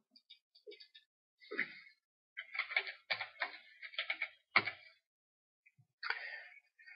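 Keyboard typing while entering a texture name in the map editor for Panzer Command: Ostfront, close and quiet: irregular clusters of crisp key clicks separated by short pauses.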